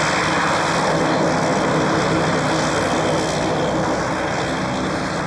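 A propeller-driven light aircraft passes close by, its engine drone a steady, loud, continuous hum with a faint whine running through the whole stretch.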